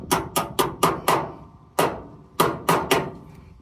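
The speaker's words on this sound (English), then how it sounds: "Hammer." A hammer strikes metal during brake and clutch master cylinder bracket work on a Chevy Nova: a quick run of five sharp raps, a pause, one more hit, then three rapid blows, loud and close.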